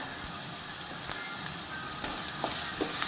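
Curry leaves and chopped onions sizzle steadily in hot oil for a drumstick curry, a continuous close frying hiss with a few brief crackles and pops, no voice.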